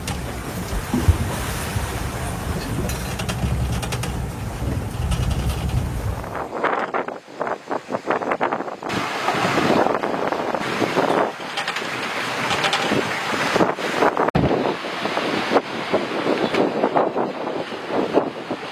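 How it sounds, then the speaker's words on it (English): Strong, squally wind at sea roars across the microphone in uneven gusts, with surging waves and buffeting bursts rising and falling over about eighteen seconds, no voices present. "a very windy and squally day"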